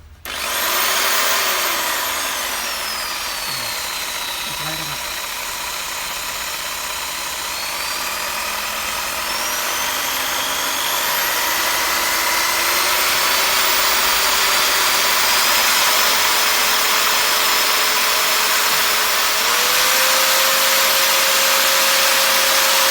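A Bosch GST 8000 E jigsaw runs without pause as its speed setting is stepped up from lowest to highest, the motor whine climbing in pitch and loudness over a steady mechanical buzz, close and alone.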